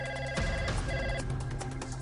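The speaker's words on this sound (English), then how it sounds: "And then the phone rang off the hook." A telephone rings with a repeated electronic ringtone. The bright tonal pulses sit over a busy background and come across moderately quiet and somewhat distant.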